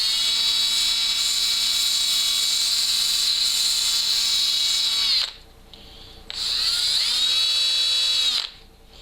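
A handheld drill spinning sandpaper whines steadily while cleaning an LS engine surface on a 1968 Camaro build, cutting out briefly near five seconds, then spinning back up before stopping again at the end.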